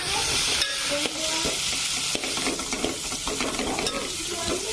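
Chopped onions sizzle loudly in hot oil for a chicken curry while a utensil stirs them, with a dense frying hiss and scraping strokes against the pan.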